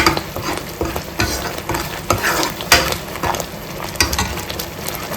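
Crab pieces fry with masala in ghee, a steady close sizzle broken by repeated scrapes and clinks of a spoon stirring against the pan, with no talking.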